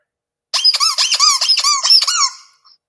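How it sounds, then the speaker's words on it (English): A vintage Star Manufacturing sailor squeaker toy, 9.5 inches tall, squeezed by hand gives about six quick high squeaks in a row, close and loud, with no talking. "it's a little sailor hammer squeak. Okay. And look at his little tie. He's so cute. Squeaker alert."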